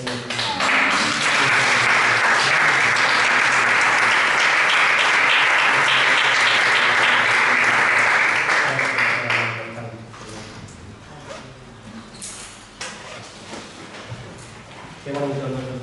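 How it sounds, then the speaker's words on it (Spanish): A church congregation applauds for about nine seconds, dense steady clapping filling the room, then it thins to scattered claps while a voice speaks over it. "Dale un fuerte aplauso a nuestro Señor."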